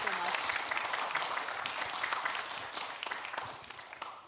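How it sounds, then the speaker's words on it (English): Audience applause for a tech industry panel on XR innovation, a steady wash of clapping from a conference crowd that stays fairly even for about four seconds and tapers slightly toward the end. "can we please have a huge round of applause for the amazing panel here?"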